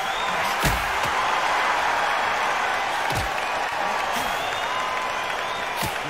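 A packed boxing-arena crowd applauds and buzzes in a steady, loud, continuous roar, with a few sharp claps and thuds poking through.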